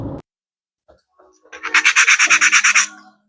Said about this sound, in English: So we're honing this back cylinder.